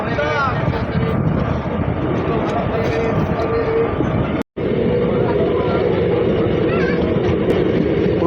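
A Katwa-Ahmadpur passenger train runs steadily through rural Bengal, a loud continuous rumble and rattle with wind rushing past, broken by one brief dropout midway.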